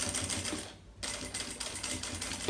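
Sewing machine stitching a seam at 4.5 stitch length, a close rapid mechanical chatter that briefly drops out before resuming for a second run.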